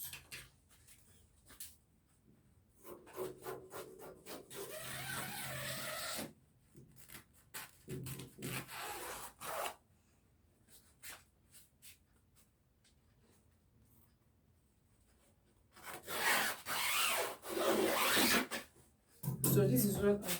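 Scissors cut fabric for a simple off-shoulder dress in several bursts of dry rasping and rustling, spread out between quiet pauses and handling noises, fairly soft and close.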